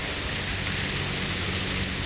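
Cold rain falling outdoors in a steady, even hiss of drops on surfaces, moderately quiet and continuous, with no voices over it.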